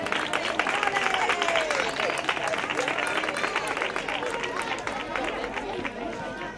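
Audience applause at an end-of-year school ceremony in Almonte, dense steady clapping filling the whole stretch with children's voices and chatter mixed in, loud and continuous throughout.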